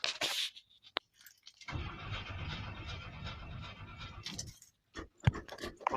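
A 1962 Chevy pickup cranks and tries to fire on a cold start, a few seconds of rough churning engine noise between quiet pauses and scattered clicks.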